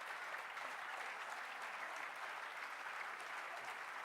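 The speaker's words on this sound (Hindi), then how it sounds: "भाई साहब बजाते रहिए ताली" Even, continuous clapping from a crowd at a live mushaira poetry recital by Nida Fazli for Jagjit Singh, a full, unbroken wash of applause with no one speaking.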